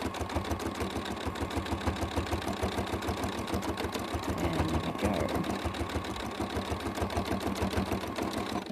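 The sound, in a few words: sewing machine doing free-motion quilting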